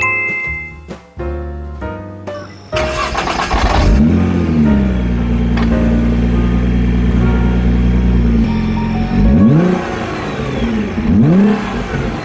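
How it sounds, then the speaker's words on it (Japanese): Nissan GT-R R35 with its V6 engine revving hard, a deep, loud, sustained roar that rises, holds steady, then blips up and down several times near and alone. "運転席にいても聞こえてくるあのドーンっていうすごい音、"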